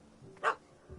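A single short puppy bark in The Witcher 3, loud and close, rising over quiet game ambience and then fading.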